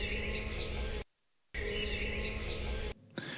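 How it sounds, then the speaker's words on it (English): Recorded bee buzzing, extended into a loop: a dense, steady buzz that cuts out abruptly for a moment, returns, then stops again near the end. "we've got the sound of this bee, which I extended"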